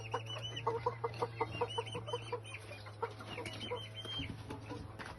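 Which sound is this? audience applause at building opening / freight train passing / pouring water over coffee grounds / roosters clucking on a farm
roosters clucking on a farm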